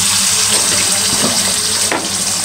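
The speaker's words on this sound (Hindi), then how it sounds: "इसको हमने भर दिया है पानी के साथ" Water gushes loudly and steadily from a tap into a cooking pot as it is filled for a curry.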